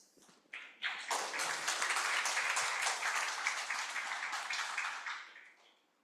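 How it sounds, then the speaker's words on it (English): Conference audience at a university in Denpasar, Bali, breaking into applause that swells quickly, holds steady for several seconds, then fades, heard from some distance and fairly soft. "Ladies and gentlemen, a round of applause."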